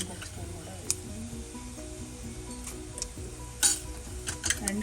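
Mustard seeds and cumin sizzle in hot oil in a home kitchen, a steady hiss with occasional light clinks of a pan or utensil while someone talks over it.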